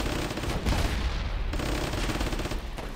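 .50 caliber machine gun firing in the World War II game Warfare 1944 during a beach assault: a continuous, heavy stream of shots over distant battle rumble, without speech.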